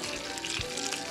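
Ginger hits hot oil with a loud, steady sizzle and crackle in a village-style fish curry, with no voices over it.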